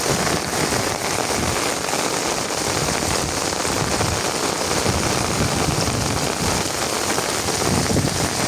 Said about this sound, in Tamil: சரியான மழை தான் பெஞ்சு வந்துருக்கு